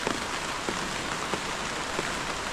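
A downpour on farmland with coconut and banana trees makes a thick, constant roar of rainfall with a few sharper drop hits, close and uninterrupted.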